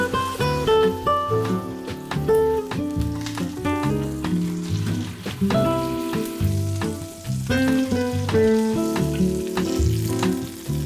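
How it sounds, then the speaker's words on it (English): Veal browns in foaming butter and olive oil with a loud, continuous frying sizzle. Tonal, music-like sounds play over it for the whole stretch. "I'm gonna brown the veal on each side."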